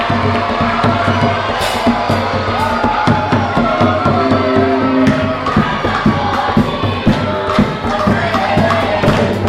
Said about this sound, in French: Applaudissons très fort pour l'honorable